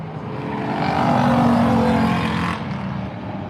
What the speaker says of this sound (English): these cars are nowhere near as loud as the super late models from earlier, but they'll still make some noise.